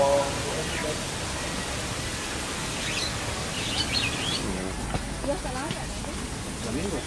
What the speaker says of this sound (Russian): Здесь есть на деревьях маленькие вот такие вот птички